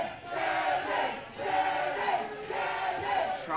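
A Tampa crowd at a live CCW wrestling show cheering, a dense roar of many voices swelling in rhythmic waves, loud and sustained, as if chanting a wrestler on.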